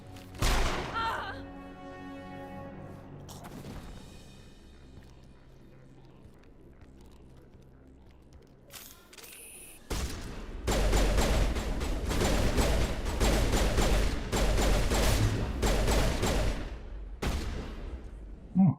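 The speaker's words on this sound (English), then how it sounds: "Oh, shotgun." Shotgun blasts in Mass Effect Legendary Edition, a loud burst of close, sharp booms in quick succession after a quieter stretch with a voice and a brief impact early on.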